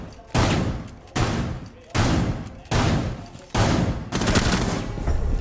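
Bursts of rapid gunfire in Rainbow Six Siege, five loud back-to-back volleys with brief gaps between them, harsh and close, the last burst running on longer.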